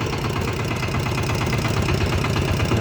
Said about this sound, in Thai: อันนี้เขาเป็นรถไถ